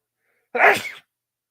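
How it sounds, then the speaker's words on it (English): A single loud sneeze bursts out after a moment of silence at an MMA fight watch party, then cuts off. "I'm gonna sneeze."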